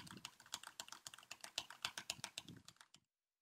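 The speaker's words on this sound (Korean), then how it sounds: "일부러 이렇게 키보드 소리를 막 내면서 녹음해 볼게요." Rapid computer keyboard typing picked up through a Corsair Void RGB Elite USB gaming headset microphone, a dense, fast clatter of close key strikes that stops abruptly into silence near the end.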